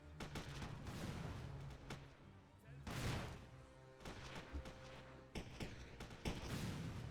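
Riflemen fire in the World War II strategy game Theatre of War during a Polish defensive mission, with scattered rifle and gun reports and thumps at moderate distance under faint low background rumble.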